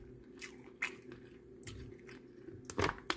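Crab leg from a homemade seafood boil being bitten and chewed close up, with scattered wet crunches and squishy bites building to a louder burst of cracking near the end, alone without talk.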